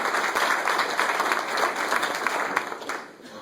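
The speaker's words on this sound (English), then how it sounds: "let's give them all a round of applause together" A steady round of applause from a club luncheon audience honouring participating students, dense continuous clapping at moderate level that begins to thin out near the end.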